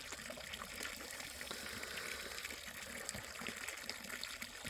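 Gray water gushing out of a household drain pipe, a continuous rushing, splashing pour of water outdoors that holds steady throughout.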